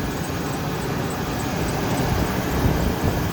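A 1999 Chevy Tahoe with a 350 Vortec V8 runs with a steady, loud, broadband exhaust roar that swells slightly toward the end, close to the microphone with wind noise over it.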